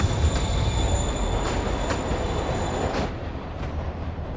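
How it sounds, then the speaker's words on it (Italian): A train in the video game Marvel's Spider-Man rumbles and rolls along as it departs, with a high metallic squeal from the wheels, steady and fairly loud before thinning out near the end. "Il treno si muove e lì sta scappando."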